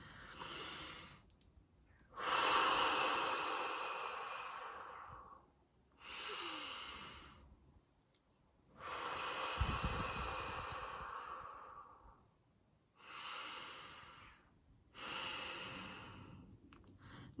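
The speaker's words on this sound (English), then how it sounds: "I'm going to do a quick demonstration here on deep breathing exercises" Slow deep breathing exercise, with five long drawn breaths separated by pauses. Each inhale or exhale is a close, airy rush through the nose and mouth, and one carries a low snorting edge. No talking is heard.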